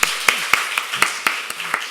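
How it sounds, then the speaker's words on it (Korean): A congregation at a Friday church worship service claps in a steady, even rhythm, about eight crisp beats at a moderate level with a faint tonal background underneath. "하나님께 영광의 박수를 돌리시겠습니다."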